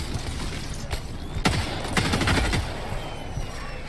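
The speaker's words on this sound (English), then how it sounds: "What are they shooting at?" Automatic gunfire in the video game Helldivers 2, with bursts of rapid shots and a few heavy booms over a dense battle din, loud and close throughout.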